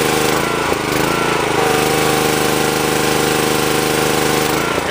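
A Karcher pressure washer's small petrol engine runs steadily at close range, a loud continuous drone with a constant buzzing tone throughout, no voices over it.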